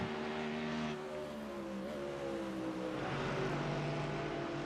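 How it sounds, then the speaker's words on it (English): A Ford Mustang GT3 race car in a racing game at Imola, its engine droning steadily and loudly throughout with a sustained, rising-and-falling tone and no talk. "beautiful sounding Mustang"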